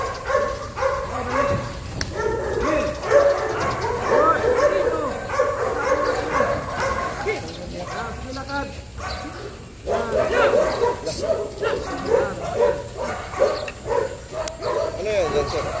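A K9 police dog barks, yips and whimpers repeatedly during handler training, its nearby calls mixed with a handler giving spoken commands throughout.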